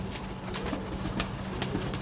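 Pigeons kept by a breeder coo softly in a loft, a continuous low murmuring with repeated gentle calls over a steady background hum, no voices present.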